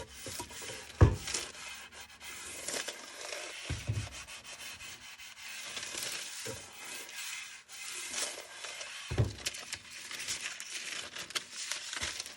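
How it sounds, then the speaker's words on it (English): A sanding block is rubbed firmly over a freshly glued paper gasket on a player piano pneumatic, giving dry scraping strokes with a few sharp knocks of the block, close and alone. "just to run a block over it, just to make sure that it's very well glued down everywhere."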